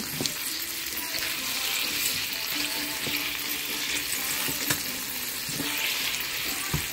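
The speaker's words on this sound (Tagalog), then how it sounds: "panay mo na siya haluin para hindi masunog" Big sausages frying in a pan over lowered heat while being stirred, giving a dense, continuous sizzle with occasional soft knocks from the utensil.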